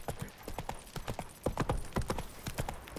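Horse hooves galloping in The Witcher 3 video game, a close, rapid clip-clop rhythm of hoofbeats drumming on the ground throughout, with no one talking.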